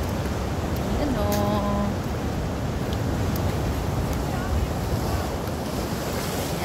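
Ocean waves wash steadily against the rock formations of Biri, Northern Samar, a dense continuous roar mixed with wind buffeting the microphone and a brief tonal sound early on.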